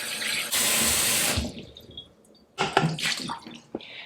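Kitchen tap water runs loudly over a jalapeno being washed. The gush starts abruptly and then fades, followed by splashing and handling under the stream, then another burst of running water.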